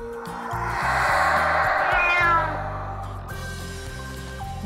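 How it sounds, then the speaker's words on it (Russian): Several cats meow and caterwaul together, loud and close, with overlapping drawn-out cries and no talk. "Кошек!"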